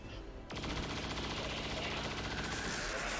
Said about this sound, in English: Caitlin, saturation fire.